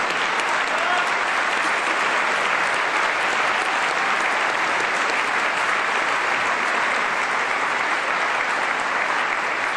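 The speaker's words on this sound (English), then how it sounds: "Clap for that, folks, because she deserves it." A large audience at a Department of Defense farewell address breaks into sustained, dense applause, loud and even throughout with no voices on top.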